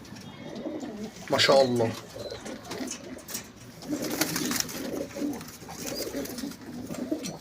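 Pigeons coo softly close by in a loft, with low throaty calls rising and falling while someone talks over them.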